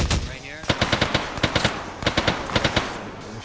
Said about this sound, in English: Heard gunfire coming from that way.